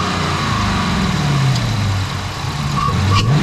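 A 2019 Dodge Charger R/T V8 fitted with a cold air intake idles loudly and close by with a deep, steady rumble, and its pitch shifts slightly as the throttle is blipped.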